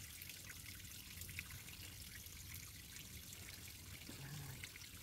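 Water trickles and dribbles out on a hillside, a faint, steady watery flow heard from a little distance against soft outdoor background.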